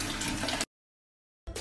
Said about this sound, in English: Flush this shit up